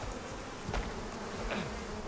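Bees buzz steadily inside a cave in the survival game Icarus, a continuous low insect drone at moderate distance with no voices over it.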